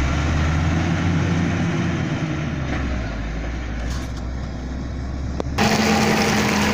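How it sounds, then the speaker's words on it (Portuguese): A municipal road grader working a dirt road in Malhada drones with a steady low diesel rumble, a sharp clunk late on followed by a louder, fuller engine note, with no talk. "A patrol da Prefeitura Municipal de Malhada"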